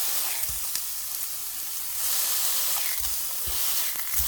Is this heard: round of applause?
no